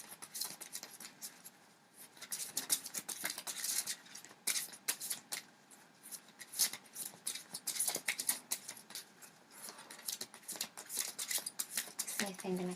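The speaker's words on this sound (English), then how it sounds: "I'm really sorry if the shuffling is loud." Tarot cards being shuffled by hand in repeated soft riffling and sliding bursts, close and fairly steady, with brief pauses between handfuls.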